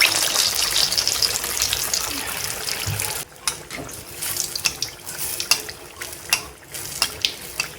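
Battered snack dipped and slid into hot oil, frying with a steady broad hiss and bubbling crackle, then a series of sharper spatters and pops toward the end.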